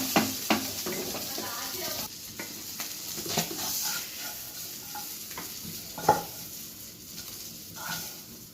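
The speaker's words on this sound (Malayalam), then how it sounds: "ഇപ്പോൾ നമ്മുടെ മീൻ ഫ്രൈ റെഡി ആയി കഴിഞ്ഞു." Fish fries in a pan with a soft continuous sizzle, broken by occasional spatula scrapes and knocks against the pan, moderately close with no talk.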